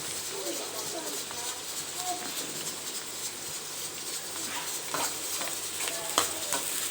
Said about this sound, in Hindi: अब मैं डाल रही हूँ प्याज 2 कप ऑयल के अंदर। ब्राउन होने के लिए मैंने अब प्याज डालना है।